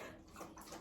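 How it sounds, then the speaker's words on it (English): A dog laps water from a bowl, a soft, quiet run of rapid wet slurping close by with no one talking. "That's my dog drinking water."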